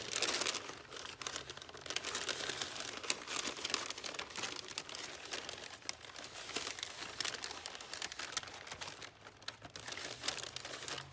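A paper bag is pressed together and crinkled by hand while making a paper snowflake craft, giving close, continuous crackling and rustling with irregular sharper crunches and no talking.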